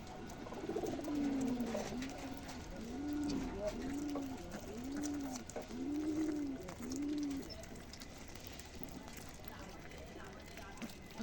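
Domestic pigeons coo close by in a repeated series of soft, rounded, rising-and-falling calls, about six in a row, while a person talks quietly in the background.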